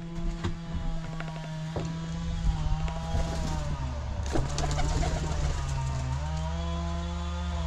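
Pigeons in an aviary coo intermittently over a steady, droning mechanical hum, with scattered clicks and rustling nearby.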